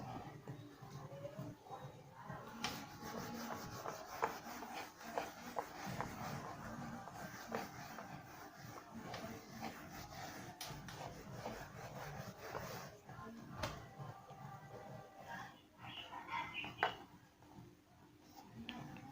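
Faint, steady rubbing as writing is wiped off a classroom board, a soft continuous scraping with occasional light knocks.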